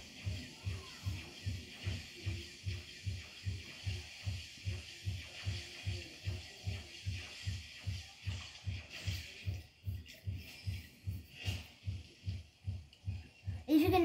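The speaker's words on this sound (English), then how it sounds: "You can hear that banging, it's just the dishwasher downstairs." A dishwasher downstairs thumps in a steady, even rhythm of low knocks, roughly two per second, faint and muffled from a distance, with a little background hiss.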